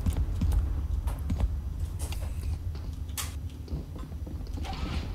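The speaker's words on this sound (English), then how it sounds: "I heard doors open too." Doors opening in a tactical first-person shooter match: low mechanical creaks and sliding, clicking movements under a steady game ambience, with no speech.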